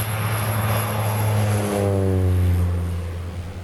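A small propeller airplane flying, steady loud drone with a low harmonic engine hum and slowly shifting pitch, heard from inside or close by, no talking.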